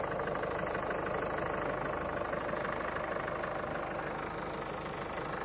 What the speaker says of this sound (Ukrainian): Ну що, рівна робота двигуна.